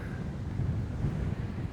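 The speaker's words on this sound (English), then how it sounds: "We are having problem hearing each other because of the wind" Wind buffeting a microphone on a hike near the coast, a steady low roaring rumble that fills the whole moment, loud and close with no voices heard.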